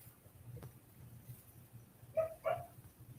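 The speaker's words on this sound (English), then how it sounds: "These dogs are the worst." Two short dog barks in quick succession, fairly faint and a little distant, over a quiet background hum with no talking.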